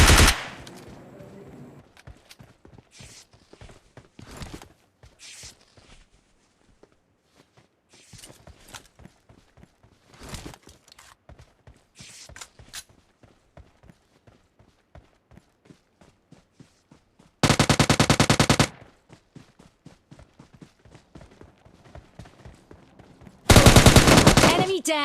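Gunfire in the mobile shooter PUBG Mobile Lite: scattered sharp single shots and short bursts, then two loud sustained automatic volleys near the end, with quiet footstep-like ticks between.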